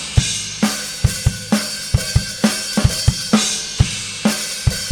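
Drum kit recorded with only two microphones, playing a steady groove of punchy kick and snare hits under a wash of cymbals, with one of the two cymbals thin or fading in the mix; no voices.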